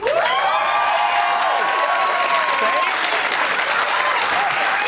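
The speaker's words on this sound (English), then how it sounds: "that round of applause was about as real and spontaneous as all of the ones on X Factor" Loud, dense applause and cheering from a television panel show's studio audience, a steady roar of clapping with whoops throughout, over bright sweeping firework-like whistles in the first few seconds.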